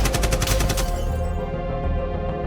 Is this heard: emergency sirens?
no